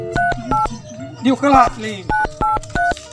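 A telephone keypad sounds a series of short, evenly spaced dialing beeps, pausing midway while a person speaks briefly over the line, then the tones resume in the same clipped rhythm.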